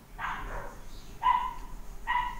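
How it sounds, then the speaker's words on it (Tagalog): A dog barks three times at a moderate distance, short sharp yaps with gaps between them over a quiet indoor room tone. "Yan, may aso."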